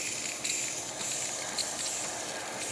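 A Breville Barista Express espresso machine, due for descaling, gives a steady, loud hiss of steam from its wand that runs unbroken with small surges in level throughout.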